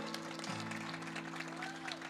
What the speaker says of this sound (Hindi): हमारे मुल्क के सबसे बड़े म्यूजिक डायरेक्टर और कंपोजर अजहर हुसैन साहब के लिए भरपूर तालियां